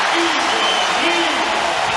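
Basketball arena crowd during Marquette at Cincinnati, a broad, steady roar of cheering under a play-by-play announcer's voice, staying loud and even throughout.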